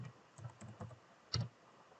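Typing on a computer keyboard while coding in Laravel: a handful of soft, quick key taps in a loose rhythm, then one firmer keystroke, all quiet and close.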